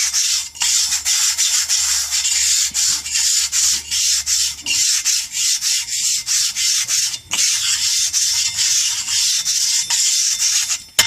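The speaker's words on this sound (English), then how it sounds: "Now I moved out a little farther. Continue the swirls. Now I'm working the outside edge." A lapping block swirls over abrasive grit on a flat plate while the plate is charged, making a loud, continuous gritty rubbing hiss with regular rhythmic pulses from the circular strokes and a brief knock near the end.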